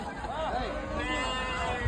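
A few goat bleats rise over a busy background of crowd chatter and murmuring voices, wavering cries heard briefly near the start.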